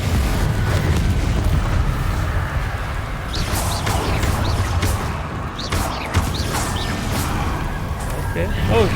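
Repeated magic spell explosions and blasts in the video game Hogwarts Legacy, Confringo fire-blast bursts booming amid combat, several loud impacts with crackling tails over continuous game rumble, while a player speaks at times.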